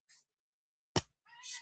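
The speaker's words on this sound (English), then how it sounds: "Spoiled little kitty cat." A pet cat gives a short, loud, close meow for treats, opening with a faint high chirp and followed by a softer drawn-out mewing call.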